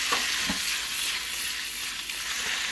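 Wild mushrooms sizzle steadily in melted butter in a pan, a continuous hiss with light stirring clicks and no talking.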